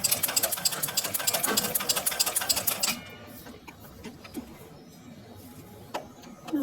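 A sewing machine stitches straight lines on practice paper with a rapid, even mechanical clatter for about three seconds, then stops. Quieter handling noises follow.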